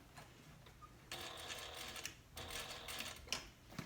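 A sewing machine stitches a handbag lining seam at a 3/4 inch allowance, running in two fairly quiet bursts of rapid, ticking stitches separated by a brief pause, with faint handling noise between.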